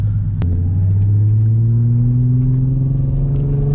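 A tuned Nissan 350Z Nismo running on E85 rumbles close and loud as it pulls away onto the road, engine note rising steadily through the rev range after a brief blip at the start.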